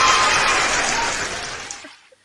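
Audience applause at a celebrity lookalike meet-up, a dense steady clapping that holds strong and then tapers off into silence.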